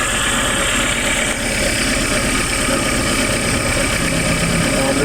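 A Suzuki APV engine idles roughly with vibration and shaking, a close, loud, continuous rumble with uneven knocking pulses throughout.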